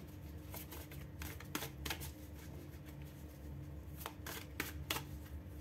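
Playing cards shuffled before a bonus card is drawn, soft quick riffling bursts and taps repeating at close range, faint overall.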